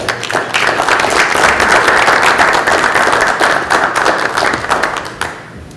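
Steady applause fills a room at a school supervisory union board and executive committee meeting, many hands clapping at once for several seconds before it tapers off.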